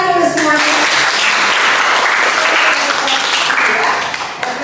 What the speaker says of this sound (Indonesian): Baik, tepuk tangan dulu semuanya.